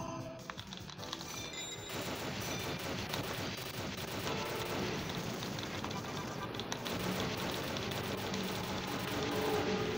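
Dense, continuous rapid gunfire from the arcade game 1944: The Loop Master crackles throughout, mixed with game sounds and without pause.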